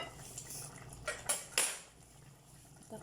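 A metal lid settles onto a cooking pot of chicken, potatoes and tomatoes, giving a few quick clanks and rattles over a faint steady kitchen background, with no talking.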